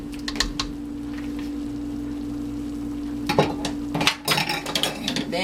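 A spoon stirs black bean chili with ground turkey and Italian sausage in a pot, producing intermittent scraping and clinking against the metal over a steady low hum, busier toward the end.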